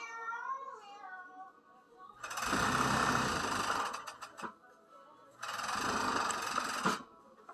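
A sewing machine stitches a fabric cuff on bloomers in two loud, close runs of about two seconds each, separated by a pause, with a cat-like vocal sound heard briefly at the start.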